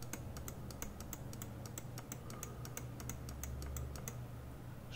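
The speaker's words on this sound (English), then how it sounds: "Right mouse click." A Glorious Model O computer mouse's right button is clicked over and over in a fast, fairly steady series of crisp, close clicks against a quiet low hum.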